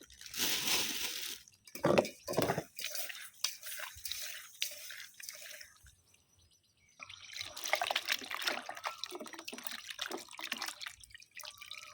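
Small fish are rinsed by hand in water, with close splashing, dripping and sloshing that come in bursts, pause briefly midway, then resume more steadily.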